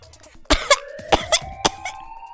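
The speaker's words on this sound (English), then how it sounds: "she's coughing so hard she can't even talk." A woman named Clover in the video game Zero Escape: 999 coughs hard in smoke, several sharp, close coughs in an uneven burst over a held musical tone.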